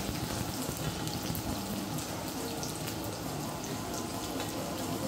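Tikoy, a sticky rice cake, frying in a pan, a soft, steady sizzle and crackle that continues evenly throughout at low volume with no talking.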